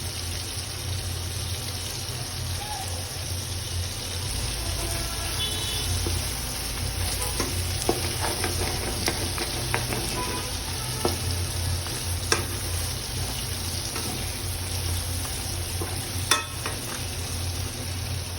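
Beef being braised and stirred in a pan with onion, green chilies and chili powder, steady sizzling and frying under intermittent scraping and clinking of a spoon, moderate level with no talk.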